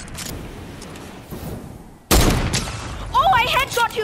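A single heavy sniper rifle shot in Fortnite cracks loudly and close after a stretch of quieter ambient game noise, followed by a ringing tail and chirpy game effects.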